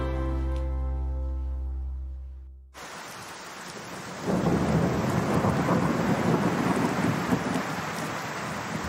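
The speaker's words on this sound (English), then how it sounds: "We've been longing for rain, so it's wonderful to have rain." Rain falling in a garden, heard as a steady broadband patter that grows heavier partway through, after a fading low tone that cuts off abruptly.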